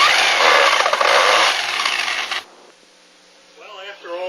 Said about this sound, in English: So, I like to use a power drill.